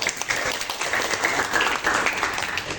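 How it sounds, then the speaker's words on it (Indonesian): An audience at a school presentation on social media gives steady, dense applause. Many hands clap continuously at a moderate distance for a few seconds with no break. "tepuk tangan buat Pak Was ya."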